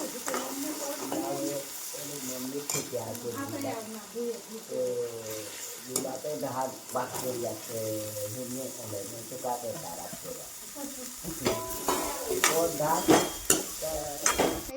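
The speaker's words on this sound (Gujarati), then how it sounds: "હવે મારે વઘારવાનું છે। તો ચાલો પહેલાં વઘારી દઉં।" Bitter gourd curry is tempered in a pan, giving a continuous sizzle with scraping stirs and sharp utensil clacks, close by, while someone talks throughout.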